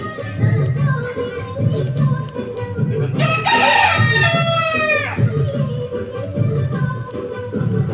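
A rooster gives one loud, drawn-out crow midway through, with hens fed rice in a home yard clucking and moving about around it over steady background noise.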